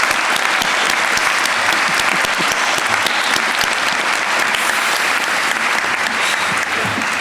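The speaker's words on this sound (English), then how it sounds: "So I just want to give a round of applause, please everyone," A large commencement and hooding ceremony audience at a medical school applauds, a dense, loud, steady wash of many hands clapping that holds evenly across the whole stretch with no talk over it.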